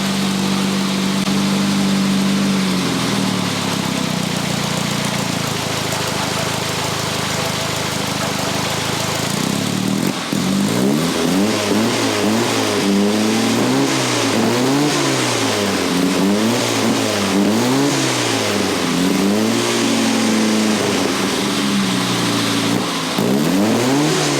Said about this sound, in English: Let's hear this exhaust note.